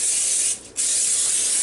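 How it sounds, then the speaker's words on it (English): Pam cooking spray hissing into a casserole dish in two steady bursts separated by a brief pause, close and loud, with no talking. "Now I'm going to take my casserole dish and we're going to spray it with a little Pam."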